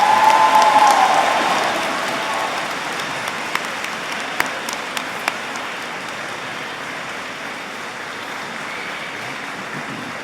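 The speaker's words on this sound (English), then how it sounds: "giving them a warm round of applause" Warm applause from the audience at a graduation ceremony, a dense steady patter of clapping that is loudest at first and then settles into a sustained, slightly fainter ovation with a few sharper claps.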